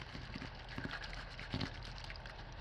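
Water trapped inside a dryer vent duct, with a faint, steady trickling and slosh and a few soft drips close by, under a constant low hiss.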